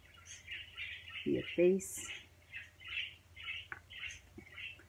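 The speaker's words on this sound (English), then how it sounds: "The birds are noisy today." Outdoor birds keep up a run of chirps and squawks, with repeated bright calls spread through the moment, while a person speaks briefly over them and a low background hum sits underneath.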